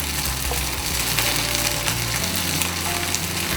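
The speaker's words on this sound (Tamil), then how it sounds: "எண்ணெய் சூடானதுக்கு அப்புறமா நம்ம ஏற்கனவே ஷேப் பண்ண நம்மளுடைய தபல பிள்ளலு ப்ளேஸ் பண்ணி லேசாக" Thapala billalu, shaped rice dumplings, shallow-fry in hot oil with a loud, steady sizzle and crackle that fills the clip, close up with no voices.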